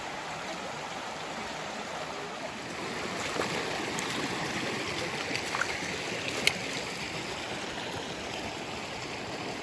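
Shallow stream water rushing over rocks at a trail crossing on Twin Falls Trail, a steady broadband wash that holds level throughout with no talk.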